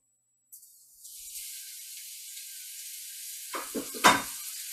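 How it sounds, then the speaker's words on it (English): Mushrooms dropped into hot oil in a pan set off a steady, bright sizzle that keeps up throughout, with a few louder clatters and stirring knocks near the end. "You want that nice sizzle action going."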